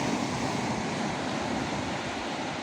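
Big ocean waves during a fishing trip, heard as a steady, loud broadband wash of surf with wind noise and no distinct breaks, filling the whole stretch without voices.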